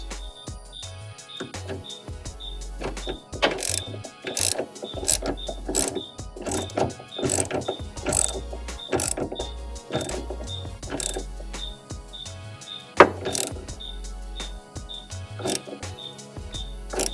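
Ratchet driving a Torx 55 bit to loosen fuel bowl bolts on a 1994-97 Ford F250 7.3 diesel: repeated sharp ratcheting clicks in short bursts with metallic clinks and handling noise, close up, no talking.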